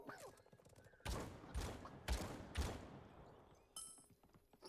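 Gunfire in an online shooter game: four sharp, heavy shots in quick succession with short ringing tails, then another burst near the end, over quieter game ambience.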